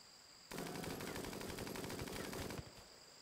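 A long, continuous rattle of rapid gunfire in RimWorld runs for about two seconds at steady volume, a colonist's missed shots fired amid a muffalo fight, then cuts off abruptly.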